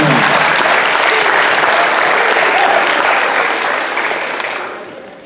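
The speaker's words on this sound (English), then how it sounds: "I want you guys to all give yourselves a round of applause" Students at a school assembly for athletes and parents break into loud, dense applause, a sustained clapping roar that carries evenly for several seconds before tapering off toward the end.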